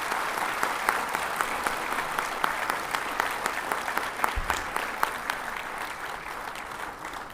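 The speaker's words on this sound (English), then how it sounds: "Please give a warm round of applause." A room full of people applauds steadily at a court farewell function, a sustained wash of clapping with occasional sharper claps standing out, continuing without pause.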